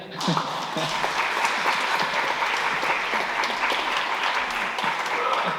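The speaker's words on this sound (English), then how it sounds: "I reckon a round of applause for Peter." Audience clapping at a Glen Innes CWA 100th anniversary gathering in 2023, a steady dense round of applause with scattered sharp claps and some murmuring voices underneath.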